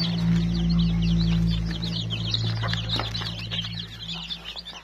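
Chickens and about twenty chicks fill a farm coop with continuous high peeping and soft clucking, close and busy, over a low steady hum.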